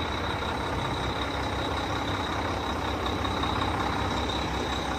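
A 2009 Mack grain truck running close by: a loud, steady, broadband engine rumble with a thin high whine held throughout, no gaps or voices.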